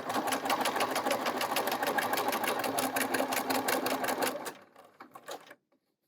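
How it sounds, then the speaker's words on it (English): A sewing machine stitches quilt fabric for a two-color flying goose block, a fast steady mechanical whirring and ticking up close that slows and stops after about four and a half seconds. "now we're going to go to the sewing machine. We're going to sew 1/4 inch on each side of this line."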